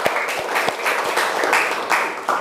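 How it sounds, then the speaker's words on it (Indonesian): A classroom of students claps together in a short burst. The hand claps are close and irregular and the sound comes in uneven waves over a couple of seconds. "Tepuk tangan untuk kita semua."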